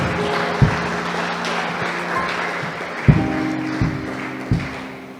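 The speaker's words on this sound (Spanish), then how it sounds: "Vamos a darle un fuerte aplauso a Jesús" A church congregation claps together during a Spanish-language sermon. The applause is a steady, moderately loud wash with a few sharper thumps, over a sustained tonal background.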